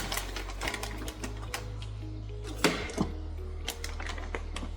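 A FoodSaver vacuum sealer sealing a bag holding a boneless ribeye steak: a steady, close low motor drone runs throughout, broken by a few sharp clicks and thumps.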